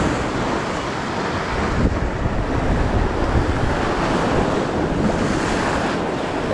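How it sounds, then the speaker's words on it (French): Sea waves surging and breaking continuously around a small boat out on open water, a loud, steady wash of surf mixed with wind buffeting the microphone, with no talking. "le bruit des vagues"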